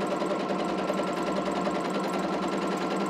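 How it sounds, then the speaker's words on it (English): Sewing machine stitching quilt sashing with right sides together, a steady close whirring hum that runs unbroken and loud throughout, with no talking. "she's just going to put right sides together and sew that sashing all the way through"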